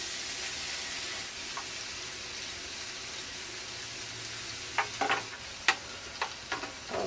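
Vegetables for shrimp fried rice noodles dumped into hot oil in a skillet, a soft steady hiss and crackle with a few sharper pops and stirring scrapes near the end, close and quiet, no talk.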